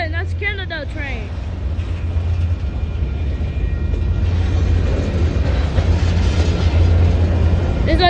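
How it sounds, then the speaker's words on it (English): CN freight train passing close by as a loud, steady rumbling roar that swells and holds, with a person's voice briefly heard at the start. "That's Canada train."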